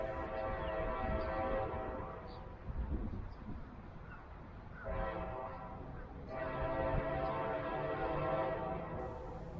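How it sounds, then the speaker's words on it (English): Two Brightline trains roar past a station construction site in successive waves, swelling and fading with rumbling wheels and a distant horn, heard from nearby outdoors. "We'll finish here with 2 Brightline trains passing the site"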